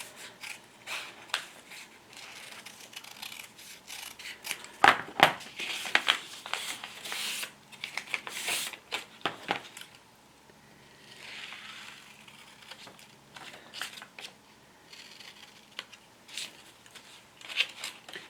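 Scissors snip and trim folded fabric for a small sewn pin keep, giving faint, intermittent cuts and soft rustling with a few sharper snips, heard close with no talking.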